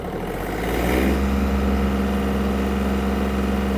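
A Yanmar F-200 mini tractor engine, in third gear with the power take-off driving a rotary tiller, is given throttle. The loud, close engine swells over the first second, then holds a steady, heavy drone.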